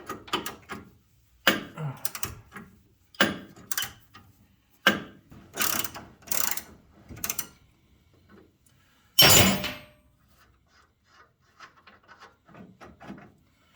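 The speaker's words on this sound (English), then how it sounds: "See if it's loose enough to use a ratchet." Ratchet clicking while loosening brake parts on a 1974 Pontiac 455 Trans Am under restoration, heard as several short bursts of rapid ratcheting with pauses between, one louder metallic clatter near the middle, close and clear.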